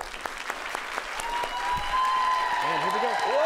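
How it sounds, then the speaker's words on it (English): A live television studio audience at a music show applauding on cue as the broadcast returns from a commercial break: sustained clapping that swells steadily, with cheering and a whoop rising over it near the end. "we're going to start with applause coming back from commercial"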